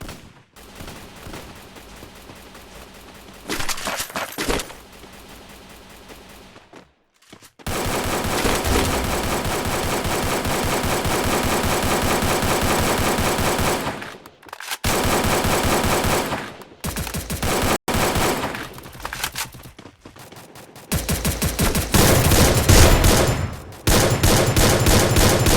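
Rapid automatic gunfire from the Free Fire video game, loud bursts of machine-gun fire filling most of the stretch, broken by brief silent gaps and a few quieter passages.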